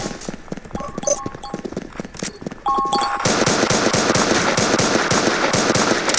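Rapid gunshots crack in the Roblox game Poly Guns, sparse at first and then settling into a steady, loud, rhythmic volley of repeated blasts.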